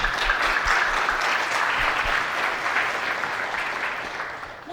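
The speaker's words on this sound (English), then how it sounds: "Let's give them a big applause" Steady audience applause at a Lunar New Year community celebration in Rockville, a dense even wash of clapping from a crowd that tapers slightly toward the end.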